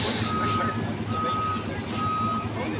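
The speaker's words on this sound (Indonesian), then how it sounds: "Jadi busnya sudah siap diberangkatkan." A tour bus backing up gives three evenly spaced electronic reversing beeps over a loud, steady engine rumble and busy outdoor noise, close by and without talk.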